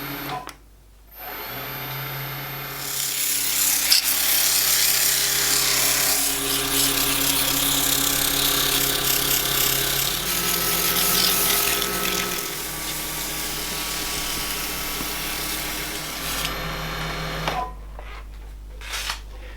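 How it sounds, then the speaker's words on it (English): A Hafco WL-14V wood lathe spins while a wood and resin lamp is sanded, giving a sustained loud whir and hum with shifting pitch and a rough sanding hiss, briefly quiet at the start and trailing off at the end. "Another great feature of this lathe is it has forward and reverse. Now that comes in really handy when it's time to sand."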